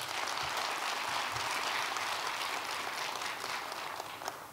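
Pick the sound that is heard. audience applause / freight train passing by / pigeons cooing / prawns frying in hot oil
audience applause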